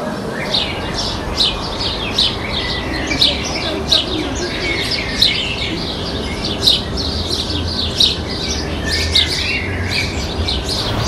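Birds chirp and tweet in a large garden near an industrial plant. Bright, repeated calls sound at a steady rhythm over a constant low background hum.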